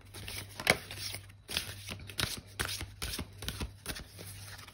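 Oracle cards being shuffled and drawn by hand, several close crisp riffling bursts separated by brief pauses, with no talking.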